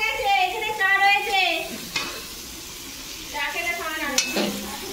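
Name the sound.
pumpkin slices frying in oil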